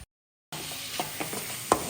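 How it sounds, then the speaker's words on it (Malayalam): Tomatoes stirred into sizzling masala in a pan for Kerala duck curry, a steady frying hiss with a few soft scraping strokes and one sharper clink of the spoon, close and alone after a short silence. "അപ്പം തക്കാളി ഇട്ടു. തക്കാളി ഒന്ന് ഉടയുന്നത് വരെ ഇളക്കാം"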